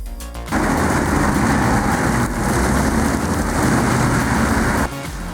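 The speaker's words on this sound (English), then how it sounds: "The Awi RT800 charges in like a wrecking ball, tearing through stumps with over 800 horsepower of raw fury" An Awi RT800 stump chipper, an 800-horsepower machine, roars loud and steady as it shreds tree stumps, a dense grinding, crackling rumble that starts abruptly, holds for several seconds and then cuts back.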